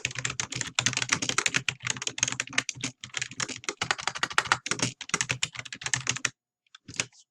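Fast, steady typing on a computer keyboard clatters up close for several seconds, stops, then resumes briefly with a few final keystrokes.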